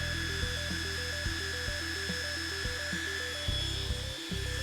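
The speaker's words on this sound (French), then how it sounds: "alors là vous entendez le laser et le ventilateur tourner à fond." An Algolaser Alpha MK2 laser engraver runs at full power with its cooling fan, giving a steady, close whirring hum with high whine tones and faint, regular mechanical ticks and stepping pulses underneath.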